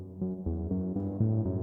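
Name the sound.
Serum synthesizer sound played without reverb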